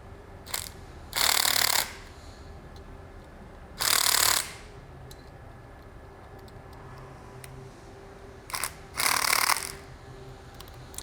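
Bolts tightened in a star pattern on a Jarvis USS2A unit: three separate bursts of rapid ratcheting with short clicks between them, close and crisp over a quiet background, with no talking.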